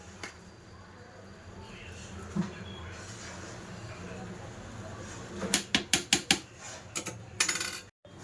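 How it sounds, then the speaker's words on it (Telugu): A spoon scrapes and taps against a pot of chicken dum biryani, stirred after coriander is added, with quick, close clinks clustered near the end over faint background noise. "కొత్తిమీర వేసిన తర్వాత కూడా ఒకసారి ఇలా కొంచెం కలిపేసుకుంటే బాగుంటుంది"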